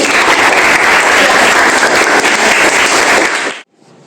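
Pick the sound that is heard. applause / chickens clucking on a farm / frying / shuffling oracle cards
applause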